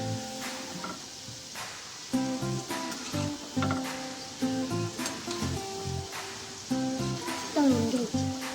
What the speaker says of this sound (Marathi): अशा प्रकारे भजी तळून घ्यायचे।